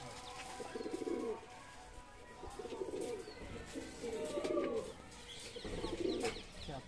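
Punjabi Malwai pigeons coo in soft, repeated low bursts roughly every second or so, close but quiet, over faint background rustle.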